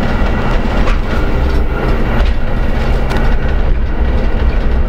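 A loud ChME3 shunting locomotive hauling ten wagons drones close by as the heavy wagons rumble and clatter along the rails, a dense continuous roar.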